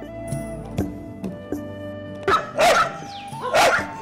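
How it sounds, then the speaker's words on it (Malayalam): Dogs of various breeds guarding a forest-edge dairy farm bark in a few loud, close bursts, with softer single yips and thumps before them. "എല്ലാറ്റിനും കാവൽക്കാരായി 4 ചുറ്റും റോന്തു ചുറ്റാൻ സന്നദ്ധരായി നിൽക്കുന്ന വിവിധ ഇനം പട്ടികൾ"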